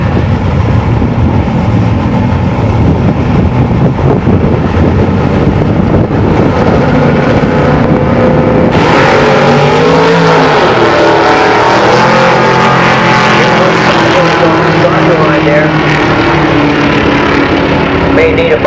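Late-model, high-horsepower cars such as a Dodge Challenger Hellcat and Mustangs race at Maple Grove Raceway, producing a loud, continuous engine roar that swells sharply about halfway through as the cars run close by.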